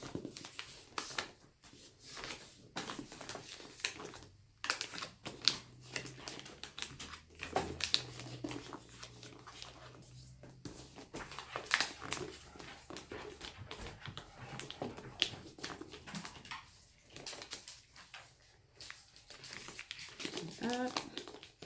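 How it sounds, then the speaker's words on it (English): Wrapping paper crinkles and rustles as it is folded around a gift, and tape is pulled and pressed down, while a person talks over the irregular papery crackles throughout. "I usually fold in as well. Just pull that right up. And again, just one piece of tape."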